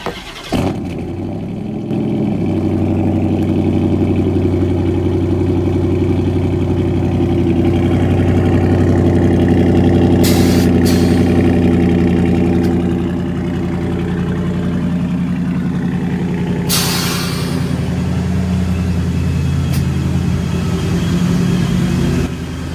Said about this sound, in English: let's hear a nice cold start, guys